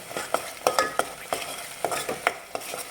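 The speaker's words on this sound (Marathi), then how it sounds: "त्यामुळे गडबड न करता थोडंसं एक अर्धा मिनिट जास्त भाजायचा मसाला बघू शकता" Egg curry masala being roasted and stirred in a pan, with a spoon scraping in repeated short strokes about every third of a second over a soft sizzle, close and fairly loud, no talking.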